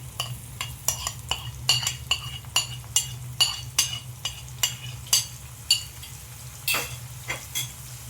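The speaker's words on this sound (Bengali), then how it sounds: "পেঁয়াজটাকে আমি ভালো করে ভেজে নেব" Onion paste sizzles in hot oil in a pan while a spoon stirs it, scraping and clinking against the metal in a regular rhythm of sharp taps over a soft, continuous frying hiss.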